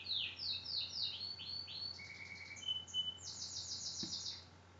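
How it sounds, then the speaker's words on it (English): A canary sings continuously in bright, rapid trills and warbling phrases, fairly close, with no talking. "He's a canary, I think."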